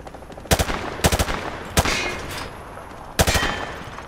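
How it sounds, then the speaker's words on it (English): Sharp rifle shots fired from the hip at range targets in Call of Duty, a handful of loud cracks, some in quick pairs and bursts, each trailing off in a brief echo, with no voices. "Grab that weapon off the table and fire at the targets behind you."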